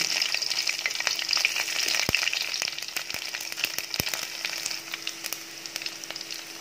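Chopped garlic frying in a pan on a gas stove for a South Indian eggplant, drumstick and potato kuzhambu: a continuous close crackling sizzle with scattered louder pops and spits, no voices.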